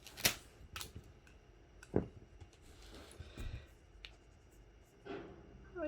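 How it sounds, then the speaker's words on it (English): Pen writing across a Rocketbook smart notebook page, giving soft, close scratchy strokes and light taps in short bursts with pauses, quiet and alone. "Let's write something."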